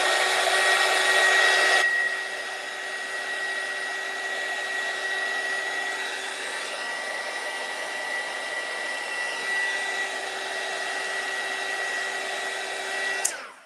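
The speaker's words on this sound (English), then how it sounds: "So I'm just going to hit this with a heat gun." A heat gun blows over a thin layer of Mod Podge on a paper Christmas gift tag. Its steady airy roar runs for about fourteen seconds, louder in the first two seconds, then cuts off abruptly at the end.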